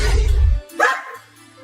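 A single dog barks once outdoors, a sharp, loud yelp after a low rumbling start, then a faint trailing whine, with no talking.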